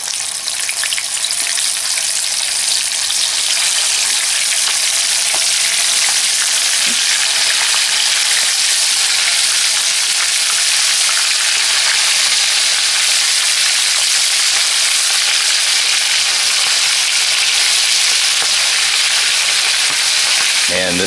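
Food sizzles hard in oil in a Stanley fry pan, a loud, unbroken hissing crackle that carries on for the whole stretch.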